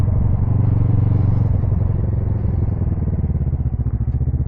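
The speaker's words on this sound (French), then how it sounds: "aujourd'hui on va faire de la moto" A motorcycle rides along a new road, its engine a steady close rumble with a pulsing, throbbing beat that shifts slightly in pitch as it travels.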